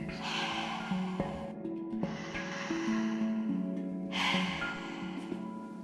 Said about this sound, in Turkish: Nefes almaya ve vermeye devam et.